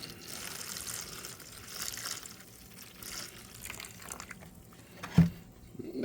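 Vinegar is poured from a container during an outdoor garden repair project, making a faint, steady liquid trickle over a quiet background, with a brief louder knock near the end.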